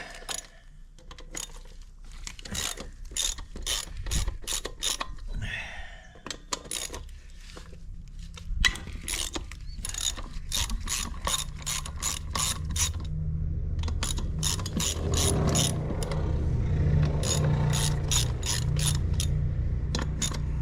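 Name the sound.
ratchet with 12mm socket on Honda three-wheeler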